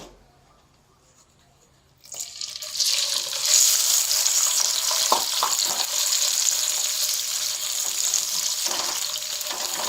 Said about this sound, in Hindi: हल्का सा ब्राउन करेंगे प्याज को।